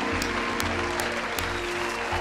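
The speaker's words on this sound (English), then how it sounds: "Clap that up. I gotta clap it up." Applause from Marvel's Spider-Man 2 plays as a dense, continuous wash of clapping over game music, fairly loud and steady across a short stretch.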